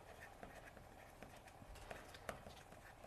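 Horses of the Spanish Riding School in Vienna performing horse ballet, with faint, distant hooves clip-clopping in a steady, rhythmic pattern.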